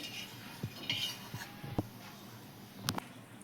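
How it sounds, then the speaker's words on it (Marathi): Fasting potato chivda being stirred in a pan, with scattered light metallic clinks and scrapes of a spoon against the pan at low volume, separated by quiet pauses. "आता आपण चिवडा हलवून घ्यायचा थोडा"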